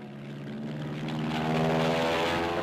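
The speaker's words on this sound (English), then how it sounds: "The F7F, known as the Tigercat, a new twin-engine fighter bomber." A WWII Grumman F7F Tigercat twin-engine fighter bomber with Double Wasp radial engines in flight. The steady, harmonic propeller drone swells as the plane approaches, then holds loud and close.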